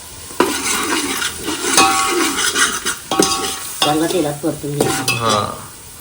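Spice masala sautéing in oil in a pot over a wood-fired chulha, with steady sizzling and repeated scraping and stirring of a metal spoon against the pan, close and fairly loud, with no talk.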